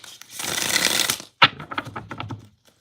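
A deck of tarot cards is riffled in a long, dense rush, followed by a sharp snap and a few softer taps as the cards settle.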